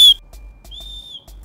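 Two shrill blasts from an emergency survival whistle, a brief one followed by a longer steady tone, loud and close with quiet gaps between.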